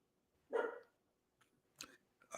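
A dog gives a single loud bark close by in an office, followed by a few fainter short sounds and another brief burst near the end; no one talks.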